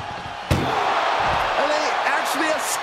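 Ambulance door slammed shut in a wrestling video game, one sharp loud bang near the start, followed by ongoing crowd noise and talking voices.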